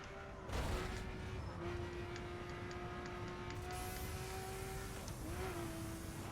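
Hypercars in a racing video game roar past, a steady, dense engine drone with a sustained whine running under it and a brief surge near the start, heard without talk.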